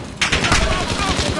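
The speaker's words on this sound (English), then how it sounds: "Gunshot." Gunfire in a PS4 video game erupts suddenly into a loud, sustained burst of rapid shots lasting over a second.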